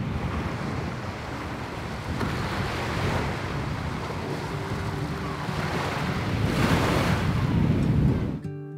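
Strong wind buffets the microphone in loud continuous gusts on Lesbos, with surf washing in the background and no voices.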